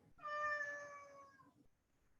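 A cat gives one clear, drawn-out meow up close, about a second long, then goes quiet in a still indoor room.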